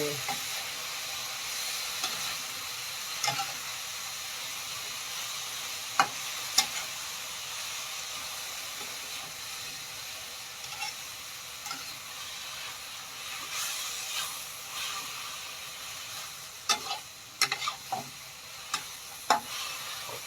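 Pork stir-fried with ta-ko leaves in a pan: a steady sizzling hiss runs throughout, with occasional sharp clinks and scrapes of a utensil stirring. No talking.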